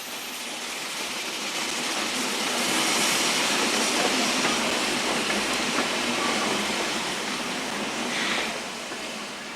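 Garratt double Pacific express passenger steam locomotive of the Central of Aragon Railway on a Spanish RENFE main line, a steady broad roar of running train and rushing steam that swells slightly mid-pass and stays loud throughout, with no voices.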